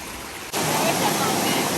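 Fast-flowing stream water rushing across a hiking trail in Vermont on the Appalachian Trail, a loud, steady broadband roar that starts abruptly and continues close by.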